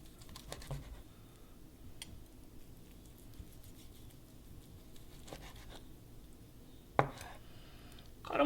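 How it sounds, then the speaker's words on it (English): Knife cutting through marinated pork tenderloin on a board, soft quiet taps and slices in an irregular rhythm, with one sharper knock near the end. "Cut them about somewhere between 1/4 and probably a 1/2 inch thick"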